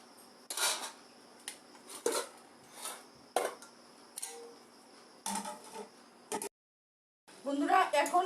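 A lid clinks and scrapes onto a pot of jackfruit curry, giving several short close metallic knocks and rattles spaced a second or so apart, ending in a brief silence and then a final clatter, with no talking.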